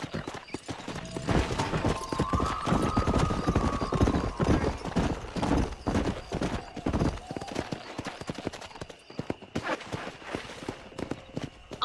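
Horse hooves clip-clopping into a gallop with a neigh in the Red Dead Redemption video game, steady close hoofbeats throughout with occasional voices over them.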